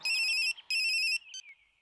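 A mobile phone ringtone plays two loud, bright electronic bursts in quick succession, followed by a brief fainter trailing tone, close and clear with no voices.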